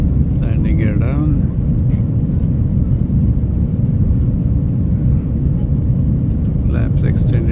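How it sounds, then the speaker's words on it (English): Inside a Cebu Pacific airliner cabin on final approach with the landing gear down, a loud, steady engine and airflow roar fills the whole clip, with voices faintly audible over it. "we're on final approach to Manila International Airport"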